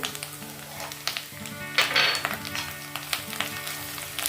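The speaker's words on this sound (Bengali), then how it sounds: "একটু ভাজা ভাজা করে নেব কালারটা ভালো আসার জন্য।" Fried onions with turmeric and Kashmiri chili powder sizzle in a pan while a Bengali doi katla fish curry is prepared. The frying hiss is steady and close, broken by scattered stirring clinks, with faint tonal sounds underneath.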